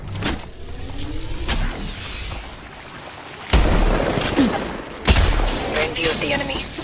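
Bursts of gunfire in the mobile shooter Apex Legends Mobile, loud rattling volleys with sharp onsets and pauses between them, together with other game noise and voices.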